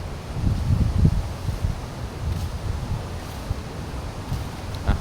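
Steady wind and surf at Suan Son beach in Klaeng, Rayong, a broad low rushing roar with gusty swells and no voices over it.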